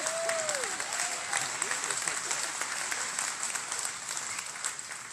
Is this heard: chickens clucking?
no